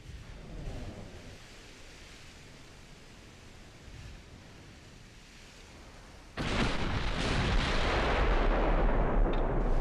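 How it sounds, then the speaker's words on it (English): 14-inch naval guns fire armor-piercing shells in a naval warfare game: a quiet rumbling stretch breaks into a sudden heavy boom partway through, followed by a sustained loud, thundering roar. "First shot that hits out of the 14-inch guns. We are firing AP officially now."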